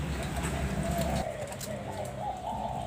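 A spotted dove's soft, repeated cooing sounds over a low rumbling background, with a faint murmur of talk.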